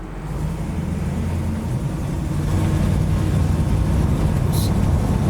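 A 1963 Buick LeSabre engine running and pulling away, a loud steady rumble that swells slightly as it gets going, with faint voices under it.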